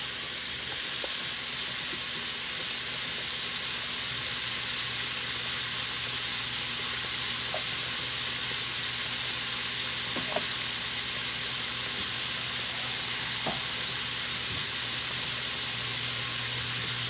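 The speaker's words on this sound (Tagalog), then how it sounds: "Ayan, kumukulo na po siya." A pan of fish stew with bagoong simmers with a steady bubbling hiss and occasional soft pops, constant and close, with no talking.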